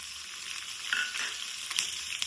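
Green chillies sizzle in hot oil with urad dal and chana dal for a lemon rice tempering, a steady close frying hiss with a few sharper crackles and pops, no voices.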